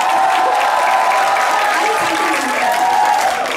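Audience at a military base concert clapping steadily and densely, close and loud throughout, with a few voices mixed into the applause.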